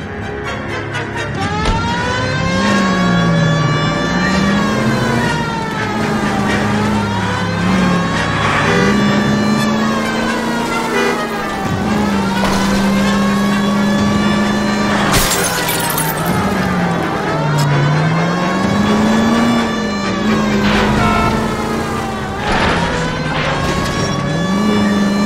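A car driven in the L.A. Noire PC game, its loud engine rising and falling in pitch through repeated gear shifts over about 25 seconds, with a sharp crash or glassy impact midway.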